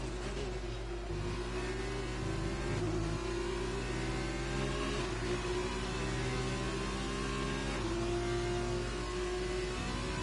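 An F2 racing car engine in a video game race in Italy revs loud and continuous, its pitch climbing and dropping with gear shifts, with no talk over it.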